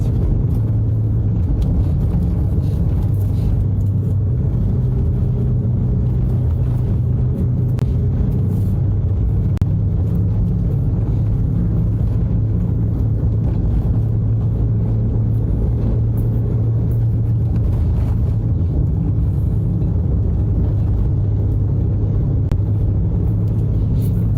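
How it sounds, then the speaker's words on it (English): Road traffic heading into St. David, Grenada, in the morning: a steady, loud engine drone and tyre rumble from inside a moving vehicle, continuous for the whole stretch with faint passing vehicle swells and no talk. "Traffic traveling into St. David."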